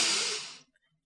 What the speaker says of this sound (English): let's take a nice big deep breath